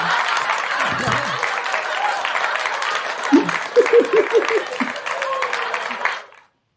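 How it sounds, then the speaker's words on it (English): Audience applause on a podcast recording: a full, steady wash of clapping from a crowd, with brief whoops and voices breaking through near the end before it cuts off abruptly. "Girl, you done got extra applause."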